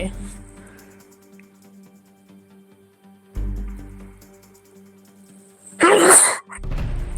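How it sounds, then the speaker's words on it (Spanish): A sneeze bursts out loud and close during a Spanish-language live stream, a single sharp explosive blast near the end after quieter stretches with a faint voice. "me da por estornudar estando aquí en el directo"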